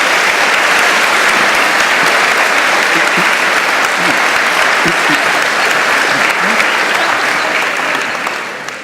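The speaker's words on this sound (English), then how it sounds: "quick round of applause for the little discussion we had" Audience at an evening conversation event with Richard Dawkins gives a loud, continuous round of applause, dense crowd clapping that holds steady before easing off at the end.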